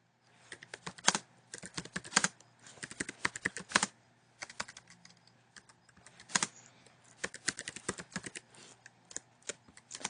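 Fingers type a reply on a computer keyboard in quick irregular clusters of close, crisp key clicks with brief pauses between bursts.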